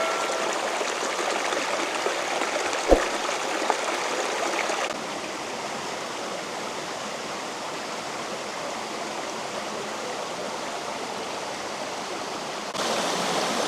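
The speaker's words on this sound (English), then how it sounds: "you just see the waterfall." Steady rushing roar of a waterfall at Sombrio Beach, British Columbia, continuous and broadband, dipping slightly in level partway through with a faint thump near the start.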